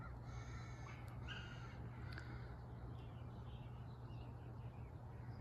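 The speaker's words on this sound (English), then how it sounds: "Listening to the bird song and other sounds of the neighborhood" Crows caw a few times at a distance over a steady low hum and outdoor background noise in a neighborhood, with other birds faintly chirping.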